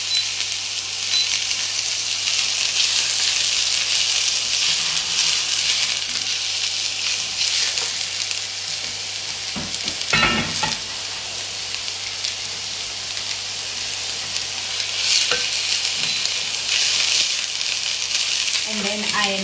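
Onion fries in a hot pan, a loud, continuous sizzle with a few sharper scrapes and knocks of stirring scattered through; no one speaks.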